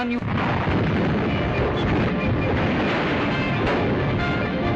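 Artillery gunfire from the 1937 Battle of Shanghai, a dense continuous roar of booms and rumbling in an old newsreel recording, loud and sustained throughout.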